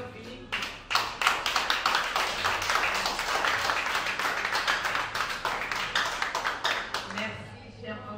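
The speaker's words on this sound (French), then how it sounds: "est-ce que les hommes peuvent juste m'aider à applaudir ces deux femmes en face de nous?" Men in a conference audience at a women's investment event clap, with distinct individual claps building quickly into a brisk, fairly close round that fades near the end while a voice talks over it.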